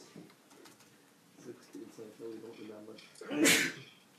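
A single sharp, loud sneeze bursts out near the end in a high school biology classroom, following a stretch of students chatting and joking in the background.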